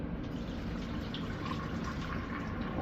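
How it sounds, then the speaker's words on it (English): Liquid poured off a batch of cooked shrimp just before an ice bath, a steady splashing, running stream close by and continuous for the whole moment, with no talking. "Dump that little liquid off of them."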